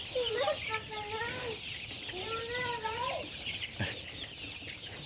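Asil chicks clucking and peeping while being fed salad, several rising and falling calls in two clear bursts close by, over a faint background hum and with a brief knock near the end.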